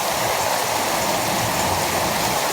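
Heavy rain pours steadily just outside an open sliding glass door, a dense, loud, unbroken hiss with no pauses and no voices.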